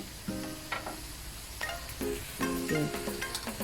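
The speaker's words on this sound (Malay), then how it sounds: "Kemudian kita tumis lagi." Squid curry ingredients stir-fried in a hot pan, with a steady loud sizzle and repeated scrapes and clinks of a spatula stirring against the metal, close up and without talking.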